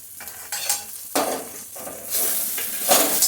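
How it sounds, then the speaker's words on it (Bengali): Ghee sizzles in a pan of taro leaves (kochu shaak) as they are stirred, with bursts of crackling sizzle rising and falling between stirring strokes. "এখন ঘিটা দিয়ে দিচ্ছি"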